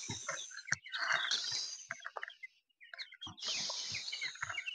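Young chicks being given water in the evening chirp in rapid, overlapping high peeps, loud and close, with a short lull before the chirping resumes.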